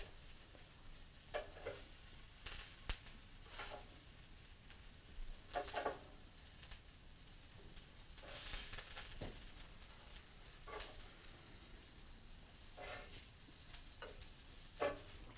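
Shawarma skewers sizzling on a grill, a soft steady crackle broken by scattered pops and brief bursts of hissing, fairly faint with no talking.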